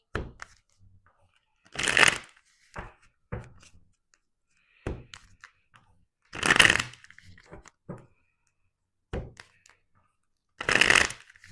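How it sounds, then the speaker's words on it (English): Tarot cards are riffled in three loud bursts, with quieter taps and shuffles of the deck in between, close up and with no talking. "We're gonna shuffle."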